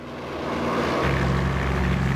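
Propeller engine of a 1927 Stinson Detroiter plane, a steady droning roar that swells in loudness, close and alone.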